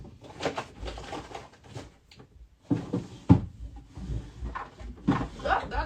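A cupboard door is opened with a few wooden knocks and clatters, scattered across the moment amid light handling noises, close by and at modest volume.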